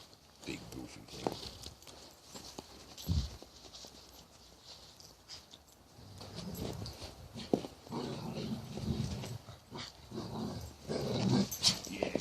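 A big poodle named Gabe growls low and rumbling near an outdoor table as snow gathers, with soft whimpers and shuffling steps while a person talks over it.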